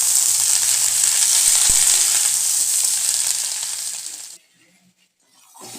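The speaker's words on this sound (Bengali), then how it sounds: "আলুটা ভাজা হয়ে গেলে এর উপরে পেঁয়াজ কলি দিলাম। এবার এটা একসঙ্গে আরো কিছুক্ষণ ভেজে নেব।" Potatoes and spring onion greens fry together in a pan with a bright, continuous sizzle and a couple of small clicks, before the sizzle drops away almost to silence and returns faintly.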